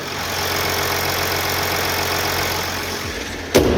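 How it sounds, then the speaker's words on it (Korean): A 2017 Mercedes S350d diesel engine idles with a steady low rumble and a slight ticking knock, close by, engine and transmission mounts due for replacement, ending with a brief clunk. "엔진룸 개폐했습니다. 엔진음 들려드릴게요."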